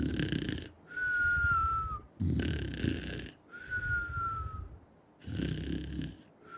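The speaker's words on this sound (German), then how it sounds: "Hör auf zu schnarchen." Snoring from a character in the farming game Farming Simulator 22, three loud snores at a slow steady rhythm, each drawn-in breath ending in a thin whistle before the next snore.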